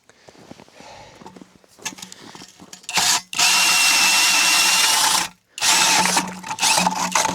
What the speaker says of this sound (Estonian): Ja täna siis puurime juba trelliga.